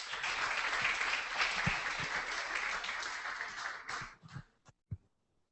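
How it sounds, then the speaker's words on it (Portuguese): Applause at a photojournalism workshop for a group that has just presented, a full round of clapping that thins out into a few last scattered claps before stopping. "Parabéns para vocês, vamos aplaudir esse grupo."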